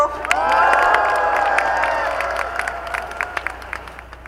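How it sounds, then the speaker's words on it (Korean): A large crowd at a disability rights rally in Gwanghwamun applauds and cheers, with a whistle and whoops rising at first, then clapping thins into scattered claps as the noise gradually fades. "뜨거운 박수와 함성으로 맞이해 주십시오"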